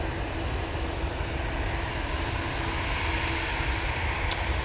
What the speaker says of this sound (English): EasyJet A380 going off to Belfast now. All lined up, ready to go.